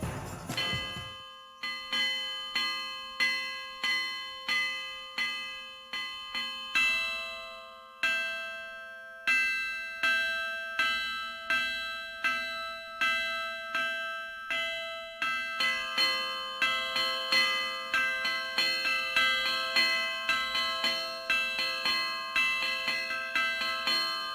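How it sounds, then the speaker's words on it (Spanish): Church bells ring in a steady rhythm of repeated strikes, their tones overlapping and building into a dense, bright peal that grows fuller toward the end. "puede dar su toque especial, ¿no?, a la manera de tocar las campanas"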